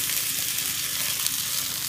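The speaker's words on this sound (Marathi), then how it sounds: "सर्व घालून जरा फोडणी देत आहे" Close, steady sizzling as spices hit hot oil for a phodni of urad dal, chana dal, asafoetida, cumin, green chillies and curry leaves for poha, with a constant bright hiss and no talking.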